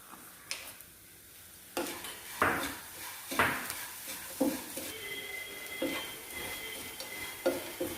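Jaggery melts in a hot pan with a soft sizzle while a spoon scrapes and stirs in irregular strokes, metal clinking against the pan now and then, close and moderately quiet.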